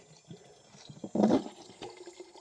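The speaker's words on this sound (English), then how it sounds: "this is blocked up enough water that's coming up and over the top" Water from a stream in the woods spills over the top of a ram pump bucket. A close, gushing splash swells briefly in the middle over a steady trickling wash.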